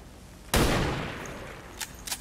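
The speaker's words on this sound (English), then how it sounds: "Take a random shot." A single loud gunshot rings out in the turn-based tactics game XCOM 2, its sharp report decaying over about a second, followed by two faint, brief clicks.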